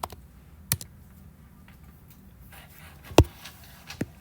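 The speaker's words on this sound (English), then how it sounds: "So you just hit log and then type in the number." Calculator buttons are pressed to enter a logarithm during a precalculus lesson. A few sparse, sharp clicks sound at irregular intervals, close and fairly faint, with no talk.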